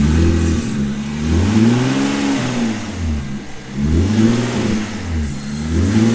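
An Infiniti G37 engine is held at raised revs during a Seafoam treatment, rising and falling in repeated surges roughly every two seconds, loud and close without talk.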